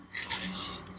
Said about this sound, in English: do some more sanding.